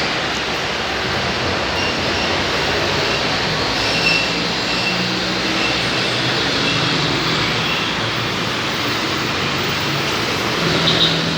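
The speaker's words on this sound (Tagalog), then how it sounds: "MRT Santolan Station." A steady, loud rumble of a metro train at MRT Santolan Station, broad and continuous with a faint squeal of wheels near the end.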